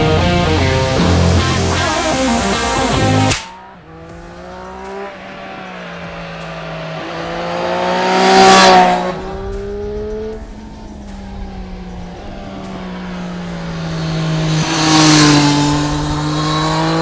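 A Triumph Street Triple 765 motorcycle engine revving hard through rising gears on a sunny road, several accelerating runs with a whining pitch climbing and dropping, loud and close.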